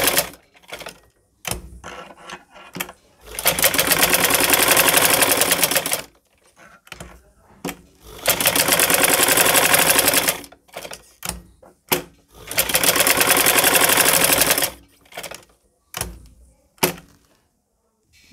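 A sewing machine stitches a straight seam in three long, loud, steady runs, each lasting a few seconds. Short clicks, knocks and handling noises fill the pauses between runs.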